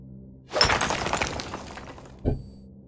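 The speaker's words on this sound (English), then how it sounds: "I like the symbolism of smashing those words with the hammer." In the video game What Remains of Edith Finch, a hammer smashes words with one loud crashing shatter that breaks into scattered fragments. A softer thud follows about two seconds later, and no one speaks.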